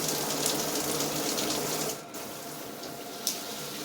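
Water from an LED temperature-sensing shower head in massage spray mode streams steadily, then drops off sharply partway through and continues more quietly, with a small knock near the end.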